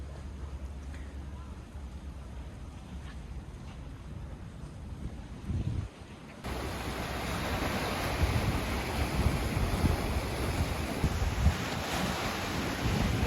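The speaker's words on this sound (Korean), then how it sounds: "시원한 바닷바람과 눈이 시릴 정도로 푸른 동해를 만끽할 수 있습니다" Steady sea breeze and surf along a 1.7 km coastal walking path on the East Sea, a continuous wash of wind and waves that grows louder and fuller partway through, with no talking.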